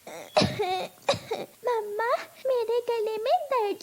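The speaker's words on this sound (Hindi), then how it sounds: "गले में दर्द है और खांसी भी आ रही है" A cartoon child with a sore throat coughs twice in sharp, close bursts, then speaks in a hoarse, whiny voice.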